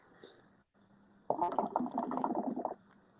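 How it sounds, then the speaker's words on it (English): Soft, continuous bubbling of water churning in a hookah, close up and fairly quiet, lasting a couple of seconds after a brief hush. "Yes, that's what you're hearing is bubbling."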